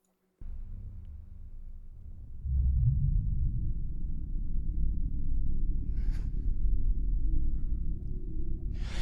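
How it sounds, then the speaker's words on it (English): Kylo Ren's Force mind-reading effect from Star Wars: a low, dense rumbling drone that swells after a couple of seconds and holds steady with a few faint airy bursts on top. "that sound is when he's using the Force to grab information, to pretty much look inside his mind"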